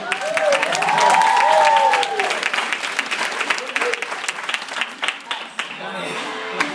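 An audience cheering and applauding, loud sustained clapping with whoops and rising shouts at first, then settling into scattered claps and crowd noise, with voices speaking over it.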